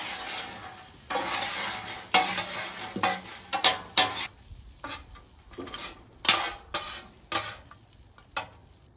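Spiced nuts stirred through melting butter on a Blackstone griddle, giving a steady close sizzle broken by repeated scraping and clinking strokes of a utensil against the hot flat-top.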